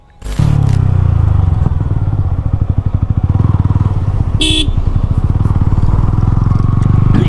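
A motorcycle engine starts and runs loudly nearby at a service center with a steady rumbling throb, and a short horn honk sounds midway.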